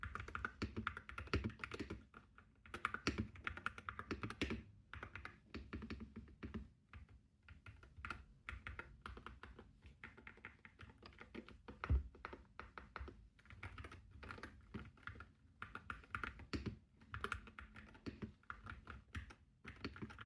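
Typing on an MCHOSE Ace 60 Pro magnetic-switch mechanical keyboard, a close, steady run of soft clacky keystrokes with quick irregular rhythm and occasional heavier thocks, no speech.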